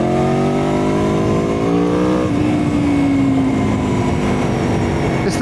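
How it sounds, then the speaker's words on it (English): Aprilia Tuono V4 1100 Factory motorcycle with its V4 engine revving on a road ride, a loud rising growl climbing through the revs, a gear change and then steady throttle, with wind rush throughout. "Hard to beat, I think, the sound of a V4."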